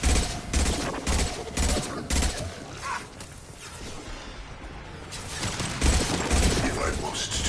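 Gunfire during a fight in the video game Mass Effect 2, repeated rapid bursts of shots with a brief lull in the middle, mixed with mechanical clanks and voices talking.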